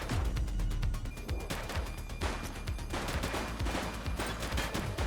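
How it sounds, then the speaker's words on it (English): Gunfire from a shootout in the video game The Precinct: dense, rapid bursts of shots crackling continuously, loud and close, with no talk over them. "Shots fired!"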